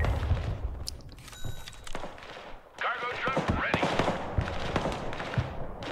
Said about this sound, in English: I'm firing artillery on this note